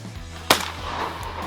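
A single gunshot from a neighbouring hunter during a hunt in Corsica cracks out sharply at mid-distance, then a faint second report follows against quiet outdoor ambience.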